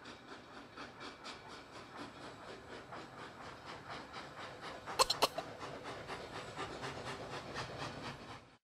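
A cartoon taxi train chugging in a steady, rhythmic, steam-like puff with a hiss, plus a brief sharp burst of higher tones midway, at a fairly quiet level.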